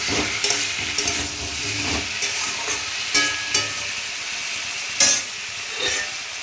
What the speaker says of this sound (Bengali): তো সোয়াবিনটা ভাজতে বসিয়ে দিয়েছি, আর এখানে দেখুন আলু ভেজে নিয়েছি। এই ঢাকা খুলে আরেকটু নেড়ে দিব।